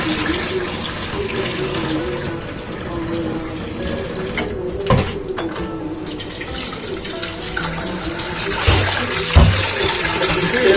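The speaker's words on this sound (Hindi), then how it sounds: "इस टाइम पे बस मैं इन दालों को अच्छे से पानी में धो लूँगी" Mixed lentils (dal) are rinsed in water in a kitchen, giving a steady running-water wash with sloshing and swirling, occasional clinks and splashes, fairly close and continuous throughout.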